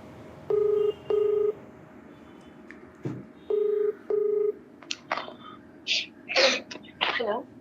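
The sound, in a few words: telephone dialing tones for a phone call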